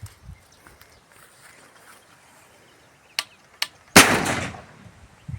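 A firecracker set off in a village millet field to scare birds bursts with a single loud, sharp bang that rings out and decays, preceded by a couple of small clicks and quiet outdoor ambience.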